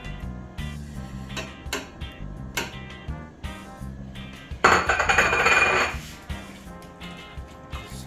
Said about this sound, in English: I'm now going to add the carrots to the pot.